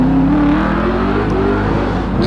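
Loud, close V8 growl from a Holden VL race car accelerating hard up a hillclimb course, the engine note climbing steadily in pitch before a brief shift and further rise.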